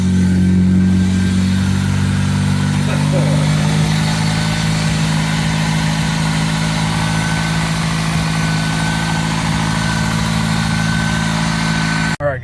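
A Toyota Corolla engine idling steadily after an intake manifold, throttle body and fuel injector swap, a loud close low drone with a steady hum throughout and a brief clunk at the end.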